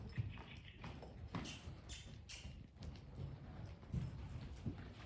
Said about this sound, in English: So we'll just get him trotting right here.